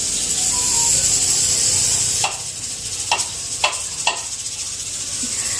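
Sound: pressure cooker whistling

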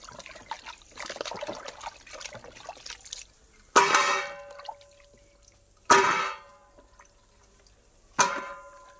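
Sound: washing mangoes in water

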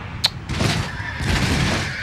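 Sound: cannon fire in the video game Empire Total War

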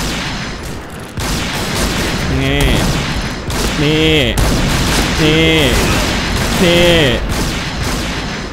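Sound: gunfire in video game Point Blank

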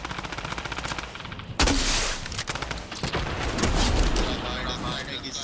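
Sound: flare gun firing in the video game Fortnite

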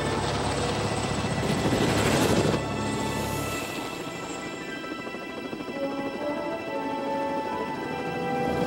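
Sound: helicopter flying

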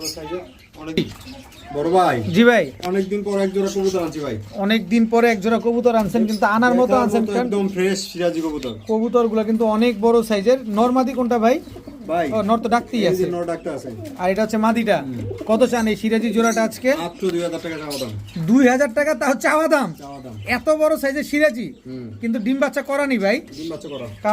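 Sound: Sirazi pigeons cooing

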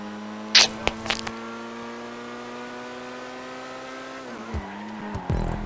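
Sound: car drifting with tire squeal in video game GTA 5

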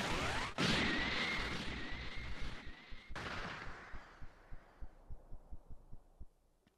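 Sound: Special Beam Cannon attack in video game Dragon Ball Sparking Zero

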